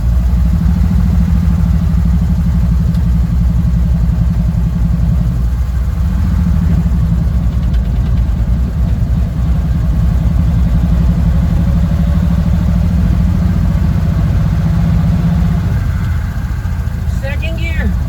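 A 1937 Plymouth Coupe's engine runs steadily with a low, throbbing drone as the car drives down the street, constant and loud throughout, with faint clatter and a voice now and then over the engine noise.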